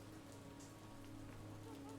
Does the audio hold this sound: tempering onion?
no